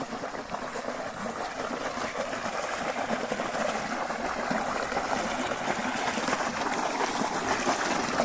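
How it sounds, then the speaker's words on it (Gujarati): Water flows out into an irrigation channel on a farm. It makes a steady, close, gurgling rush that stays even throughout, with no talking over it. "પાણી નીકળે છે સરસ મજાનું"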